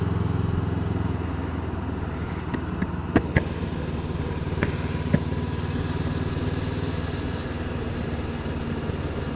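A Honda CB500X motorcycle engine chugs at low revs, a steady close rumble with a few sharp clicks and knocks.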